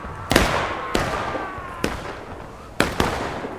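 Artillery and gunfire from a Civil War video game battle in the Manassas campaign: five loud, sharp booming reports at irregular intervals, two close together near the end, each trailing off into a rumbling battle din with no talk.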